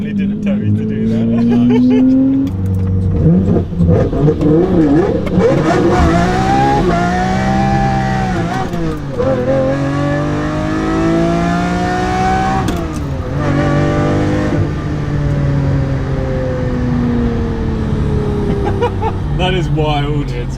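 A Lamborghini engine revs hard and climbs through repeated gear changes, its pitch rising and dropping with each shift over about twenty seconds, loud and close, with people's voices heard alongside.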